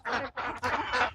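Ducks on an open-field duck farm give a quick run of about four loud, nasal quacks close by, each burst separated by a brief gap, with no voices.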